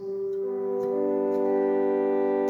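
A pipe organ's Viola da Gamba string stop sustains a thin, narrow, mild string-like tone, building from a single held note into a soft chord, close and steady without voices.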